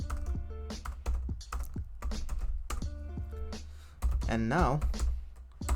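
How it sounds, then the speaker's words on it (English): A file name is typed on a computer keyboard while managing Linux permissions in a CentOS 8 terminal: a brisk run of light, uneven key clicks, close and clear, with a person talking over part of it. "and type the file name."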